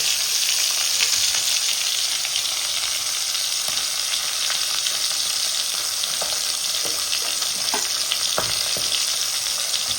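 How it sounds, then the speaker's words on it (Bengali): Koi fish, a climbing perch, fries in hot oil in a pan with a steady, dense crackling sizzle and occasional louder pops, heard close up with no talking. "আমি একবার মাছটা উল্টাই দেখে নেবো, কারণ বেশি কড়া করে ভাজবো না"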